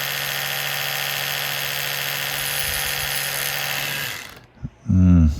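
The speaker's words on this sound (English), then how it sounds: "that's an old toothbrush that I took the head off of" An old electric toothbrush with its head removed buzzes steadily against chiltepin flowers to shake loose pollen, a close, continuous hum that cuts off near the end, followed by a brief louder rumble.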